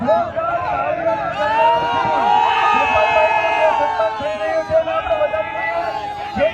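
A large crowd at a political welcome rally in Surat cheers and claps loudly and steadily, with shouts and whoops rising over dense babble for several seconds.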